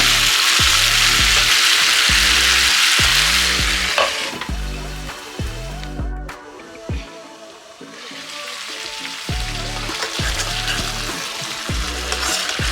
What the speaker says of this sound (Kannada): ಇದನ್ನ ಇದೇ ರೀತಿ ಒಂದು 5 ನಿಮಿಷ ಮೀಡಿಯಂ ಫ್ಲೇಮಲ್ಲೇ ಎಣ್ಣೆನಲ್ಲೇ ಬೇಯೋದಕ್ಕೆ ಬಿಡಬೇಕು.